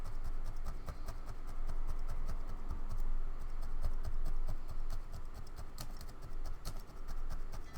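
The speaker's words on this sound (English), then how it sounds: "You can hear me hitting the tape." Rapid, quiet tapping and soft crunchy pokes of a felting needle hitting tape repeat in an uneven rhythm, close up, over a low background hum, with no talking.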